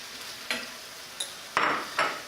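Tomato added to a hot pan for a southwest lasagna, giving a few short sizzling hisses and scrapes as it is stirred, close and moderately loud with no talking.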